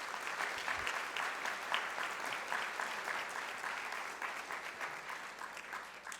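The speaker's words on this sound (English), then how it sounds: "Let's give them another round of applause, please." Applause from a conference audience for a panel on memories of punishment in schools and prisons, a sustained crowd of hands clapping evenly throughout, full but heard from a moderate distance and somewhat quiet, without talk.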